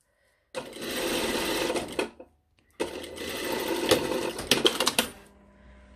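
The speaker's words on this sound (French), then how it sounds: "On va faire une piqûre à 8 mm du bord." A sewing machine runs a seam 8 mm from the edge of a lined jacket, buzzing rapidly in two bursts separated by a short pause, with a few clicks near the end, close and clear.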